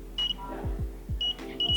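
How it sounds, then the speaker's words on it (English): A buzzer on a laser-beam and LDR security alarm, a student science exhibition project, sounds in short high-pitched beeps, a few bursts with gaps between them, over low thumping background noise. "when a person or an object interrupted between this laser beam and the LDR, this increased the resistance and activated the buzzer"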